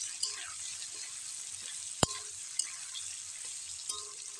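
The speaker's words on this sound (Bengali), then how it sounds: "এইটাকে দিয়ে আমি ভালো করে লাল লাল করে ভাজবো" Onion and spices frying in a pan, a quiet steady sizzle with a few light spoon scrapes and one sharp clink of utensil on metal partway through.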